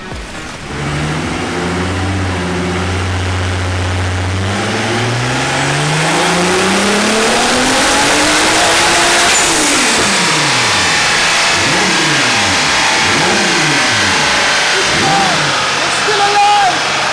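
A turbocharged car engine revs hard through a power run, first idling and then climbing to a high-pitched roar that rises and falls in repeated surges, loud and close, with voices talking over it at times.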